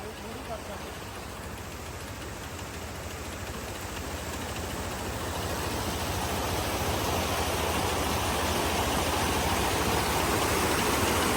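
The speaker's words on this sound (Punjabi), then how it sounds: "ਮੇਰੇ ਵਾਲਾ ਮੋਟਰਸਾਈਕਲ ਇਹ ਆਵਾਜ਼ ਬਹੁਤ ਕਰਨ ਲੱਗ ਗਿਆ" A noisy motorcycle engine runs steadily and loudly, its rough broadband rumble building slightly over time with no pauses.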